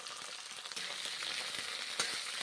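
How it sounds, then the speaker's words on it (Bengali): Okra sizzles steadily in a hot pan as it fries, a dense close-up crackle with a couple of sharper pops. "এখন ঢ্যাঁড়সগুলো ভেজে নিচ্ছি"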